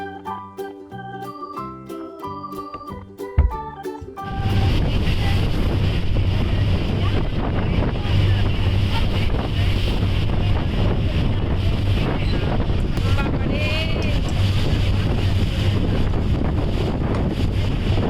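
Brief music plays, then a boat crossing from Naples to Capri Island roars with strong wind buffeting the microphone and water rushing past, a loud, steady and continuous noise.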